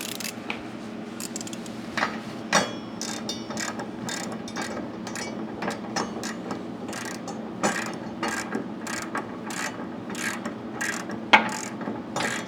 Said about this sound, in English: we'll run it in manually, and then we'll tighten it with the impact